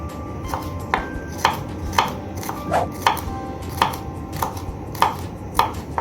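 A knife chops garlic on a cutting board for an olive-oil broad bean dish, giving about a dozen crisp, evenly spaced knocks close by. The pace is steady and the chopping is heard alone.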